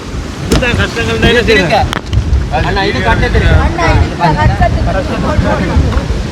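Strong wind buffets the microphone on the seashore at Jaffna amid rough sea, a continuous gusty roar with surf underneath while people talk over it throughout.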